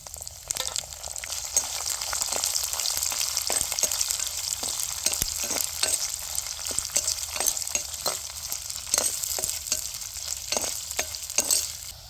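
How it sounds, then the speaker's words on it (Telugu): Chopped onions and green chillies dropped into hot oil already crackling with curry leaves and dried red chillies, a continuous close sizzle broken by frequent sharp spatters and pops, with no voices. "ఇప్పుడు చిన్నగా కోసుకున్న ఉల్లిపాయలు పచ్చిమిరకాయలు వేసేద్దాం"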